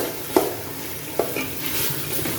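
White bean (lobia) masala roasting in a pot sizzles steadily, with two sharp clinks of a spoon against the pot as it is stirred.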